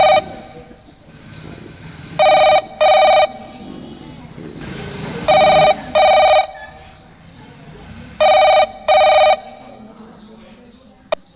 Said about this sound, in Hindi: कंप्यूटर महोदय राजेश भाई को फ़ोन लगाया जाए।